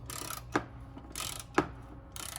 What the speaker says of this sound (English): We got the 10mm socket in here, and holding it with the wrench from the top.